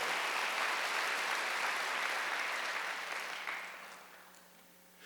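Church congregation applauding at a Wednesday worship service, a steady dense wash of clapping that holds strong for several seconds and then thins and fades toward the end.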